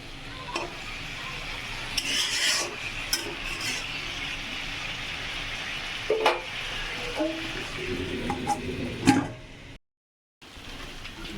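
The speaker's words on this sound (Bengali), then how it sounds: "এবার এটাকে ভালো করে নাড়িয়ে ঢাকা দিয়ে দেবো" Mixed vegetables being stirred in a pan, with scattered scrapes and clatters of a spoon against the pan over a soft frying hiss and a brief silent gap near the end.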